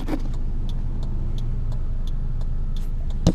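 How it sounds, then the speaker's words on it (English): Car traffic on a road makes a steady low rumble that holds through the whole stretch, with faint rhythmic ticking clicks above it and a brief knock at the end. "There's a bunch of traffic too, way more than usual."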